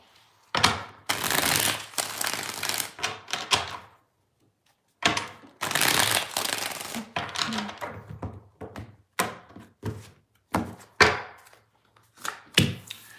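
Tarot deck shuffled repeatedly by hand, a string of close papery shuffling bursts and soft taps with short gaps between, quiet and alone without talk.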